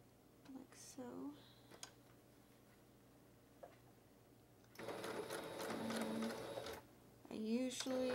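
A sewing machine stitches a fabric storage sleeve, running steadily for about two seconds in a dense mechanical whir. Someone speaks quietly before and after the run.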